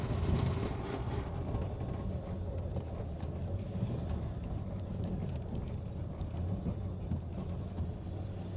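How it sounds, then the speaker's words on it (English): The clutch of a 1938 Ford with a flathead engine, long abandoned in a barn, chatters over a steady, close engine rumble as the car drives along, with no voices. "There's that noise. Oh, chattery clutch."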